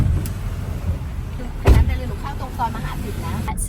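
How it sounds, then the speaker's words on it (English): Inside a taxi in Bangkok traffic, a low engine and road rumble persists, with a sharp thump like a door and faint mechanical whirs, while people talk quietly. "we get the taxi with Pooh."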